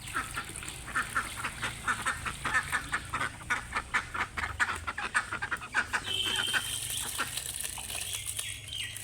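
Three backyard ducks quack in quick, repeated bursts at feeding time, with chickens nearby. The rhythmic calls run steadily throughout at a moderate, slightly distant level.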